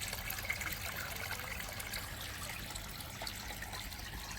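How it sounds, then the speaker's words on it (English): Borehole water flows into a koi pond in a steady, soft trickling rush that continues evenly without pause, with no voices. "Some water going in from the borehole."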